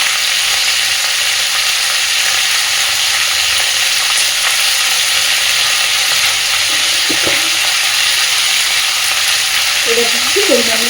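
Cauliflower and other vegetables fry with salt and turmeric in a pan, giving a steady, loud sizzle throughout with a few faint clinks near the end.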